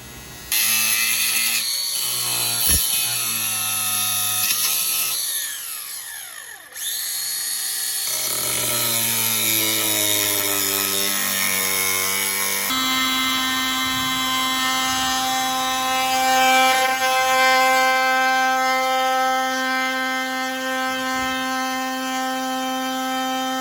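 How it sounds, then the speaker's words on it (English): A power tool cuts through an interior panel during an sPOD switch panel install in a 1997–2008 Ford E Series van, giving a loud, continuous, high-pitched whine that shifts pitch partway through and runs without talk. "turn the panel over, and we're gonna make a cut here to get rid of this"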